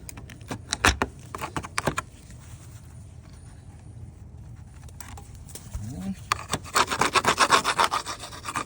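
Scraper blade rasping old exterior putty off a wooden window, with short scraping strokes early and then a longer run of rapid, close scraping toward the end, separated by a quieter stretch.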